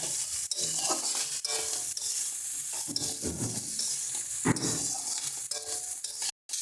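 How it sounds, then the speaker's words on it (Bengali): Vegetables and fried lentil dumplings (bori) stirred together in a sizzling pan for a cane-shoot greens dish, loud steady frying hiss with repeated scrapes and metal clinks of the spoon, up close and without speech. "এবার আমরা আগে থেকে ভেজে রাখা বড়িগুলোকে দিয়ে দেব সব কিছুকে ভালো করে মিশিয়ে নেব"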